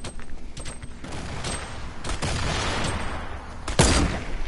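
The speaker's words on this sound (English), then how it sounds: "We're getting shot at" Gunfire in the Fortnite video game, with several loud shots scattered across the clip and the sharpest, heaviest report near the end, all over a constant game background.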